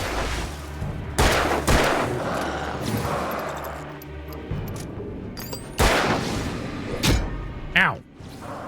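Gunfire in the Alan Wake video game comes as several sharp, loud shots spaced irregularly, mixed with game effects and a few clanks, while a voice talks over parts of it.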